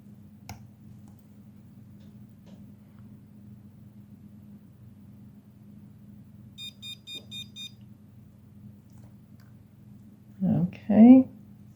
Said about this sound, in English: we'll see what we get, if anything, besides a bunch of beeps.